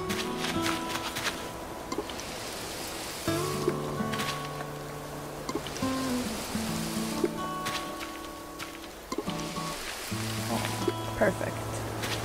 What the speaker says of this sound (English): Now, let's water Kane's plants for him.